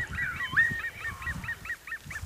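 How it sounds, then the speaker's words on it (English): Geese honk repeatedly over an open field, a steady series of nasal calls at moderate distance with faint low rumbling beneath. "But there's birds everywhere."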